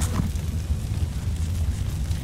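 A grenade explosion in the video game Metro Last Light Redux: a loud, deep booming blast that rolls on as a dense low rumble for a couple of seconds.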